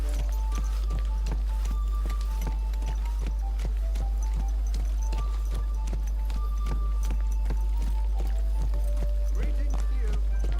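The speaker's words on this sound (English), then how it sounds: "This horse must have cost a pretty lot." Horse hooves clip-clopping in Kingdom Come Deliverance 2, a steady rhythmic stream of hoof knocks with a low rumble and music underneath.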